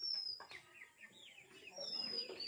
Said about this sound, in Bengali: এবার আমি মুরগিকে তুলছি, দেখতে থাকুন